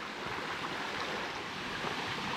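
A gently flowing creek beside a forest hiking trail gives off a soft, unbroken wash of water noise, even and steady throughout, with no voices.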